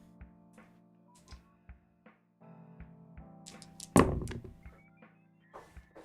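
Weighty metal dice drop onto a tabletop, giving a few scattered thunks and one heavier thud near the middle, close and fairly quiet over a low background hum.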